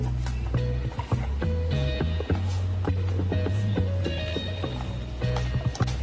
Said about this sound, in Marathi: पूर्ण भाजी अशीच कट करून घेऊ आपण